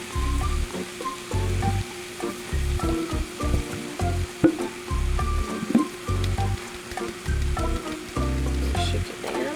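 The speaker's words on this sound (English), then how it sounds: "Now we're going to put this whole bottle of Kinder's Honey Hot barbecue sauce." A whole bottle of Kinder's Honey Hot barbecue sauce glugs and squelches out over chicken for a southwest casserole, a near, steady run of wet, thick pours with short pauses and no talk.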